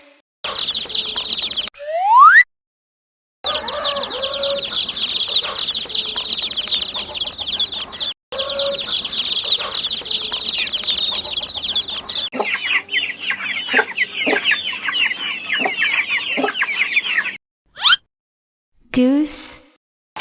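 Chicks peep and hens cluck busily at close range, a dense run of short calls broken by a few brief silences, with a narrator's spoken word at the start.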